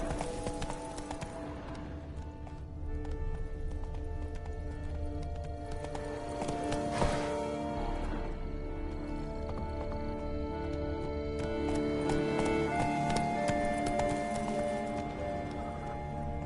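Hooves clip-clop in a steady galloping rhythm as a horse runs in The Witcher 3, the pounding beat close and continuous beneath a game music score.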